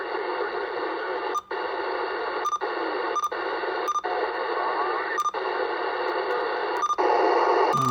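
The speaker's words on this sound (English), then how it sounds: "Nobody wants to listen to that static." Steady hissing static from a Uniden Bearcat 980 SSB CB radio in a shop, broken by brief regular clicks and dropouts, loud and continuous with no talking.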